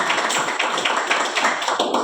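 A church congregation claps for a young man, with many hands patting quickly in a steady, dense patter that carries evenly through the short stretch.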